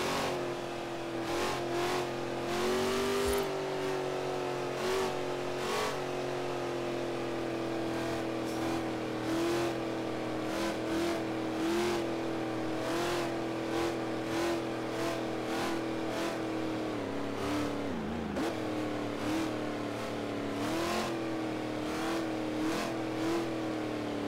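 Car engine from Forza Horizon 3 droning steadily on a road while overtaking, with pitch shifts as it accelerates and repeated sharp clicks of gear changes over about twenty seconds, no voices.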